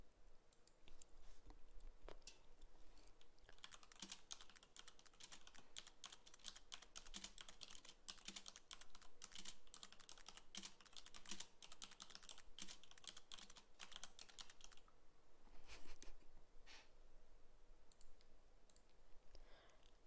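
Rapid typing on a computer keyboard, a dense run of close, crisp key clicks that carries on steadily for about twenty seconds with no voices.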